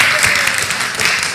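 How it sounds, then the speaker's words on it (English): A short, dense burst of audience applause fills a workshop session, steady and close throughout. "Applause now."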